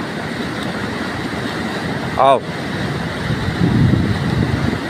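Floodwater rushing through flooded Kulsary during the 2024 flood disaster, a constant loud broadband roar, briefly interrupted by a short tonal whistle-like burst midway, with a voice speaking briefly.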